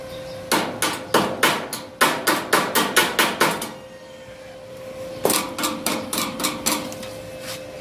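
A hammer taps welded thin metal in two quick bursts of sharp, ringing strikes, about a dozen hits each, separated by a short pause.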